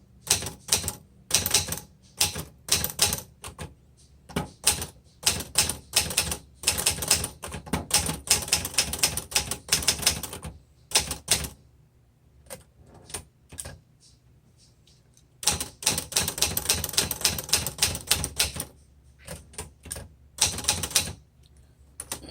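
Typing on a 1966 Olivetti Underwood 21 manual typewriter: close, crisp key strikes in rapid irregular bursts with brief pauses and occasional louder carriage clacks, over about twenty seconds with no speech.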